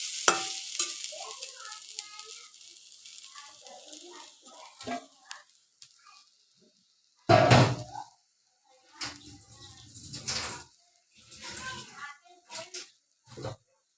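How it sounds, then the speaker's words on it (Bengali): Water is poured into a pan of frying jute leaves, with a sudden loud sizzling burst partway through, then scattered stirring and softer sizzles, while a person talks on and off nearby. "এই তো এই পর্যায়ে আমি এখানে একটু জল দিয়ে দিচ্ছি, শাকটা সিদ্ধ হয়ে যাওয়ার জন্য"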